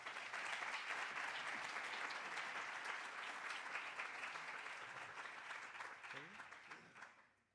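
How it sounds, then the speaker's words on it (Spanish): A large audience at an oncology radiation physics congress gives a strong round of applause, dense, even clapping that stays steady and fairly faint before tapering off and fading out near the end. "Un fuerte aplauso"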